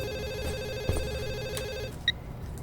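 A telephone rings with a steady electronic warble that repeats for almost two seconds, then breaks off with a short click and beep as the call is picked up.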